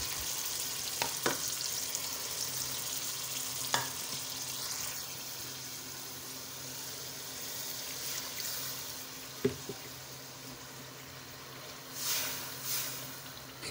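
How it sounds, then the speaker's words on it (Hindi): Tomato masala with salt, chilli, turmeric and coriander sizzles quietly in a pan throughout, with a few sharp clinks of the spoon as it is stirred and scraped, steady low frying hiss underneath. "ये ऐड करने के बाद इसको अच्छे से भून लेंगे"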